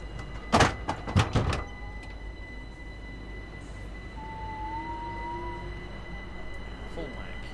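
A First Capital Connect electric train in Train Sim World 2 departs, with a few sharp clunks and door-like thumps at the start, then a low hum and a rising motor whine as it pulls away.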